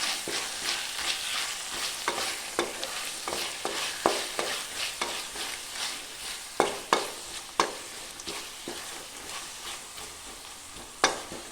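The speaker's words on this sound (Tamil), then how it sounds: "சேர்ந்து நல்லா இது பச்சை வாசனை போகிற வரைக்கும் வதக்கி விட்டுக்கலாம்." Ginger garlic paste sautés in a pan for a chicken curry, a soft continuous sizzle punctuated by sharp, irregular clicks and scrapes of a spoon or spatula stirring, close and alone.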